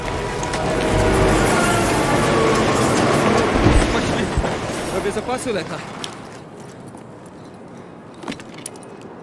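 Train rumble and clanking at a station in the video game Battlefield 3, a loud, continuous rolling clatter that fades after about six seconds, leaving faint sparse clicks, with voices talking underneath.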